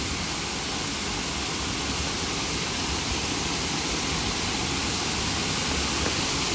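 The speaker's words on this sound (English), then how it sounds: "I'm starting to lose my voice trying to talk over the crashing sound of the water." Water crashes down the waterfall at Goit Stock, making a loud, unbroken hiss and roar that fills the whole scene, close and steady, with no talking.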